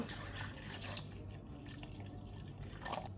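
A cup of milk is poured into a mixing bowl for an egg and wheat flour snack, making a soft, continuous liquid trickle and splash. The sound is faint and close, with no talk.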